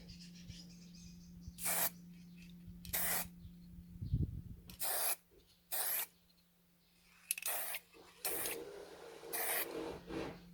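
An aerosol can sprays the final coat on a vintage Matchbox Rolamatics Mustang model car outdoors, in several short hissing bursts separated by quiet pauses, faint and close with a steady background hum.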